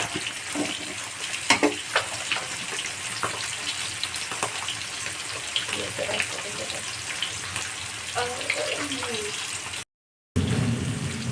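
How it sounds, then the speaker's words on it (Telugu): Onions sizzle and fry in a pan for fish biryani, a continuous crackling hiss with occasional stirring scrapes, close up, followed by a brief break. "ఆనియన్స్ బాగా ఫ్రై చేసుకోవాలి ఫస్ట్."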